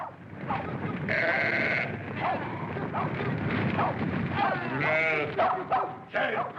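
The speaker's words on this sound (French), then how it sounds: "fais avancer les moutons" Several sheep bleat over a busy, noisy background, with a dog-like yelp mixed in and some voices nearby.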